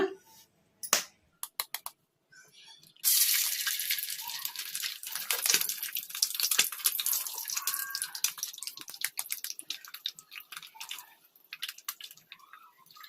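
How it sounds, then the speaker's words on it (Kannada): An egg for egg fried rice drops into hot oil in a kadai over a medium flame, starting with a few clicks and then a loud, close crackling sizzle that carries on steadily. "ಕಡಾಯಿಗೆ ಎಗ್ ಹಾಕ್ಕೊಂಡಿವಲ್ಲ ಈಗ ಇದನ್ನು ಕಲಿಸ್ಕೊಂಬಿಡೋಣ"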